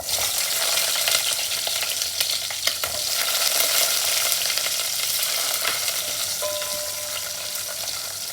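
Shallots frying in hot oil for a South Indian fish curry, a loud continuous close sizzle with scraping stirs and a few clinks, no talk.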